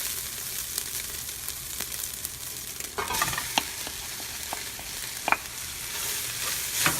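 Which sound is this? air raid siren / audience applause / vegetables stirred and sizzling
vegetables stirred and sizzling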